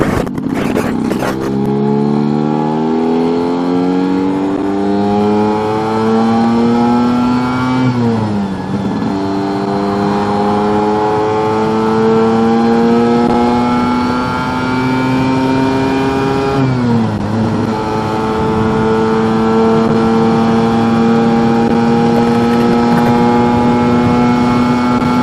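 A car engine revs hard and holds near 7,500 rpm, a loud sustained harmonic whine that climbs in steps with brief dips at gear changes, close and continuous throughout.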